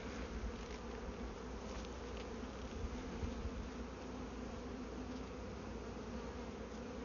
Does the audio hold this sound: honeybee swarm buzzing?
yes